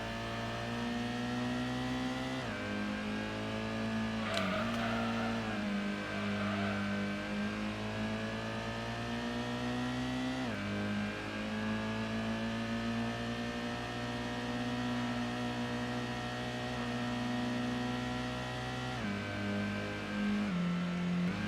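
Steady, close engine noise from a car driven hard in Gran Turismo 1, climbing in pitch and falling back at several gear changes, with a brief scrape around the middle and no talking.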